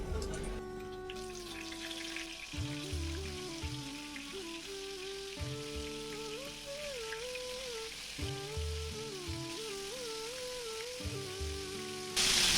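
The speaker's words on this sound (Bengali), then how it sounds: "এক পাশ ভাজার পর অন্য পাশও ব্রাউন কালার করে ভেজে নিব" Loitta (Bombay duck) fish pieces, coated in batter, frying in hot oil with a steady crackling sizzle throughout, while background music plays over it at similar level.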